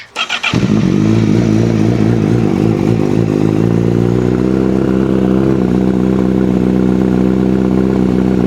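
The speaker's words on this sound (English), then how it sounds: "have a listen to this amazing Akrapovic" A 2025 Honda CBR1000RR-R SP Fireblade motorcycle fires up with a sharp clatter, then settles into a loud, deep, rumbling idle from an aggressive Akrapovic exhaust, close and steady throughout.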